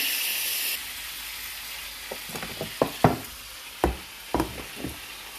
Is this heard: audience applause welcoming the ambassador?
no